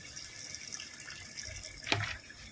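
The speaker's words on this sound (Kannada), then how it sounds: "ಸ್ವಲ್ಪ ನೀರು ಹಾಕೋಣ" Water runs in a short, steady stream into a cooking pot of soya chunks fried rice, with a brief louder splash near the end; no voices.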